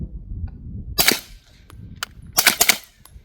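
A Steyr AUG MP88 9mm clone firing, several sharp, close cracks spaced irregularly, including a quick cluster near the end, over low background rumble and no talk.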